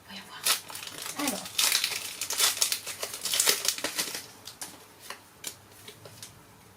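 A Pokémon Scarlet & Violet Paldea Evolved booster pack is torn open by hand, giving a few seconds of close, bursty foil crinkling and tearing that fades to softer rustles, with a person talking now and then.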